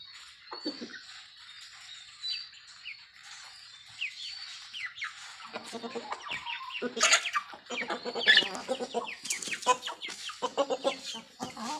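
Chickens at feeding time cluck and squawk nearby, starting with sparse calls and building into a busy, overlapping chorus of clucks toward the end.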